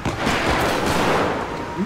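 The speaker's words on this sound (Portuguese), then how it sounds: "só tiro" Gunfire erupts in a Grand Theft Auto driving game during an armored-truck heist, dense overlapping shots and bangs forming a loud, continuous barrage.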